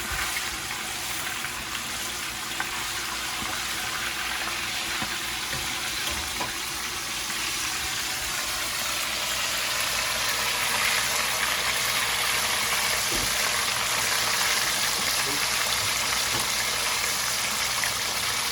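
Buttermilk-brined chicken frying in hot oil, a steady, even hiss and sizzle that runs continuously and close by, with no talking over it.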